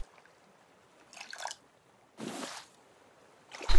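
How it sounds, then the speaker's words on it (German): Water being spilled: three short, close bursts of splashing and trickling separated by near silence, the last one loudest. "jetzt habe ich mein Wasser weggeschüttet"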